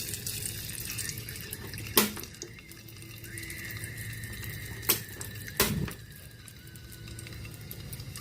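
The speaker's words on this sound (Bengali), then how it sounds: "তো এই হলুদ মরিচ মাখানো ডিমগুলো আমি তেলের মধ্যে, গরম তেলের মধ্যে এক এক করে ছেড়ে দিচ্ছি" Eggs coated in turmeric and chili sizzle in hot oil with a steady hissing crackle, with sharper splashes as each egg is dropped in one at a time, close and alone.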